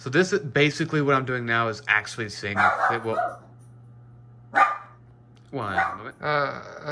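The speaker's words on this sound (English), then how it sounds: "Apologies for the dog barking." A pet dog barks indoors at something outside the window, sharp isolated barks breaking through a man's speech with a steady low hum underneath.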